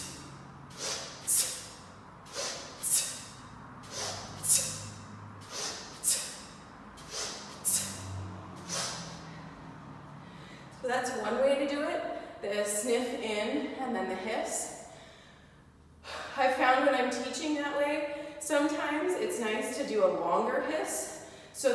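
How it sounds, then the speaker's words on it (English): Sharp nasal sniffs and hissing exhales through the teeth repeat in a steady rhythm during kettlebell swings, close and clear, followed by denser breathing and voice-like sounds. "I'm gonna do a hiss through my teeth."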